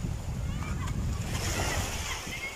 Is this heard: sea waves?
yes